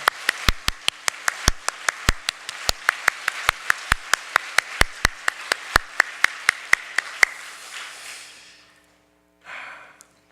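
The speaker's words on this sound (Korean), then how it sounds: "우리 하나님께 영광의 박수를 또 서로에게 격려의 박수를 드립니다" Clapping from a church congregation during a Lent sermon service. Around twenty crisp, sharp claps land in a loose rhythm, fading into a soft wash before stopping, with a brief murmur at the end.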